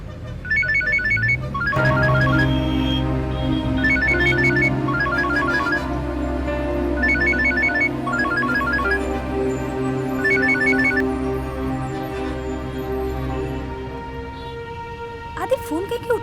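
A telephone ringtone chimes in repeated short melodic bursts over steady background music, fairly loud and continuing for most of the stretch before fading near the end.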